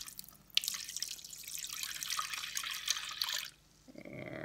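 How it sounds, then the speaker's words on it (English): Water pours steadily into an Instant Pot pressure cooker for about three seconds, a close, bright splashing stream that starts abruptly and cuts off, leaving a quieter tail. "Now I'm going to add 1 cup of water."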